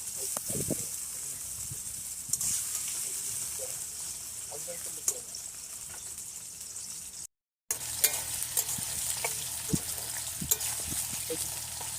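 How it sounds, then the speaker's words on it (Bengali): Potatoes sizzle and spit in hot mustard oil in a pan, a constant frying hiss broken by scraping stirs and clinks, with a brief silent gap partway through. "ভেজে নিচ্ছি ভালো করে।"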